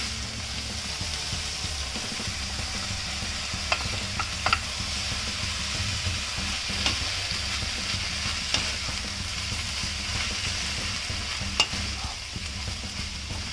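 Mushrooms and corn cook in a pan on a low flame for a savoury vegetable quiche filling, giving a soft steady sizzle. A few sharp clicks of stirring or utensil taps cut through it now and then.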